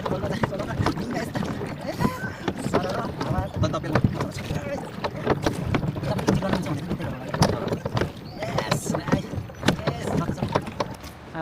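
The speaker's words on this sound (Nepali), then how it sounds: "आफैले ढुङ्गा चलाउने सही भयो" A rowboat on the river at Arashiyama in Kyoto during cherry blossom season, with repeated oar strokes, knocks and water splashes under wind noise and intermittent conversation nearby.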